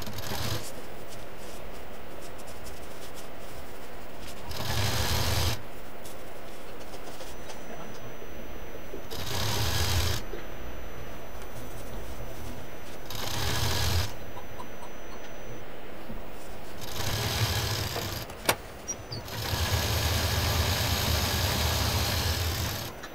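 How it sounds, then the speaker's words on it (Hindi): Sewing machine stitching folded foam strips into a strap for a pink shoulder bag, running in several bursts of a few seconds each with quiet pauses between, steady and close. "बीच में रखना है और इसको इस तरह से फोल्ड करके सिल देना है।"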